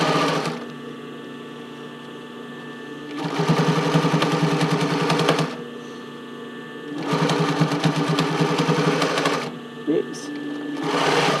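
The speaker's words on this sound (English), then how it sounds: "I'm not sewing very straight on this side." A sewing machine stitches bra cups into the band of a Porcelynne Eve Classic bra, running in three steady bursts separated by pauses, close and fairly loud, with a brief spoken exclamation near the end.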